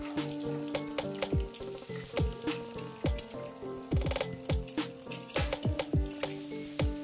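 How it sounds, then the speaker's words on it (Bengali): Eggs fry in hot oil with turmeric powder for a Bengali egg curry, giving a steady loud sizzle broken by repeated sharp clinks and scrapes of a spatula against the pan. "ডিমগুলো একটু ভাজা ভাজা হয়ে গেলে আমি এগুলো তুলে আলাদা রেখে দেবো।"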